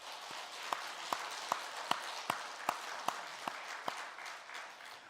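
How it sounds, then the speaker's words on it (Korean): A church congregation applauds for its choir: a steady wash of clapping with regular, slightly louder rhythmic beats running through it, heard from within the room at moderate level. "우리 찬양대 감사와 하나님께 영광의 박수 올려드리겠습니다"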